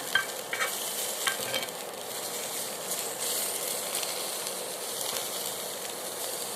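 Chillies frying in a small amount of oil, a continuous close hiss and crackle with a few sharper spatters and occasional stirring scrapes, no talking.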